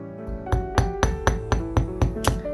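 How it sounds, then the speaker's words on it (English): A ball peen hammer taps soft aluminum wire against a steel bench block in about eight evenly spaced, light strikes, each leaving a bright metallic ring that carries over into the next; close and alone, with no talking. "I'm going to use my ball peen hammer and steel bench block to texture it"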